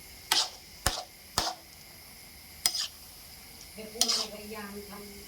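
Beef with holy basil and bamboo shoots is stir-fried in a pan, giving a series of sharp spatula scrapes and clanks spaced irregularly over a faint sizzle, with a voice talking briefly near the end.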